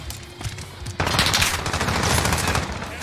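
Rapid automatic gunfire in Call of Duty: Warzone bursts in after a quieter second of game noise, then keeps up a loud, continuous rattling stream to the end.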